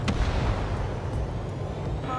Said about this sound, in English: Fire the AA!